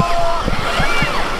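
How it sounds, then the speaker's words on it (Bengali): Big sea waves surging and breaking at Saint Martin's Island, a loud steady wash of surf with splashes close by, while a voice talks over it. "তো বিশাল একটা ঢেউ আসতেছে এখন"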